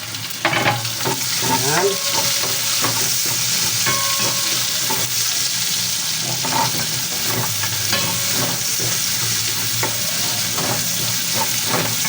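Garlic and onion sauté in a pan with a loud, steady sizzle and occasional stirring scrapes. Someone speaks briefly over the frying.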